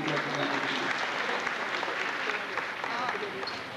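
Applause from an audience welcoming a guest at an award function, dense and steady clapping throughout at moderate level, with no voices over it.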